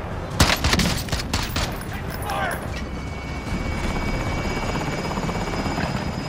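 Video game gunfire bursts from a building, with rapid shots clustered near the start over a steady drone of helicopter-like rotor noise, while several players talk.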